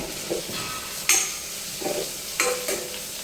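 Finely chopped onion frying in hot oil with curry leaves, a steady close sizzle broken by several scraping stirs of a spoon against the pan, with no one talking.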